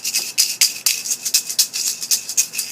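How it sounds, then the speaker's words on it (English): A homemade plastic egg shaker filled with five paper clips is shaken in a steady rhythm, making a bright rattle of about a dozen crisp pulses, loud and close, with no voices. "So next, I'm going to make my egg shaker, or my egg maraca."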